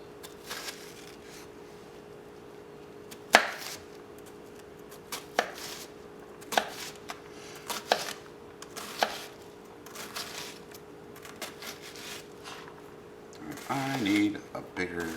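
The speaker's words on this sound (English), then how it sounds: "chop everything up nice." A knife taps sharply and irregularly on a cutting board as vegetables are chopped for guacamole, each cut a crisp close knock over a low steady hum, with a voice heard near the end.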